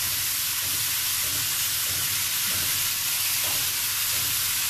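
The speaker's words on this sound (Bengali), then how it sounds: "মূলো এবং পেঁপে বেশি ভাজার দরকার নেই, একটুখানি।" Radish and papaya frying in a pan for dal, a constant bright sizzle with soft stirring scrapes now and then, steady and moderately close.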